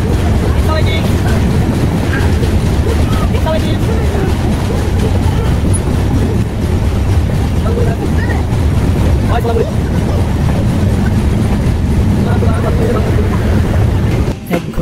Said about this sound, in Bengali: বঙ্গবন্ধু পশ্চিম রেলওয়ে স্টেশন থ্রু পাস দিচ্ছে একতা এক্সপ্রেস।